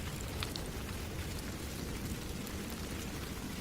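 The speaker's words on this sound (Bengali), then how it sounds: "ঠিক এমন সময় হঠাৎ শুরু হলো ঝমঝম করে মুষলধারে বৃষ্টি" Heavy rain pours down in a Bengali horror cartoon, a steady dense hiss of falling water that stays faint and unbroken throughout, with no voices.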